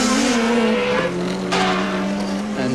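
Touring race cars of the 1989 Australian championship battle at Mallala, several engines howling loudly at once with overlapping pitches and shifting revs, one sharp burst as a car flashes close by.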